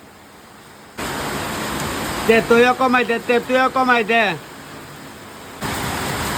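Heavy rain pours down as a loud, steady hissing roar that sets in after a second and continues to the end, with a person talking over it midway.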